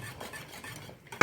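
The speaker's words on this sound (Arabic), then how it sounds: "نحركها مظبوط" A spoon scrapes and swirls through yogurt mixed with starch in a cooking pot, giving a soft, rhythmic stirring sound that ends in a louder clink of metal, with no talking.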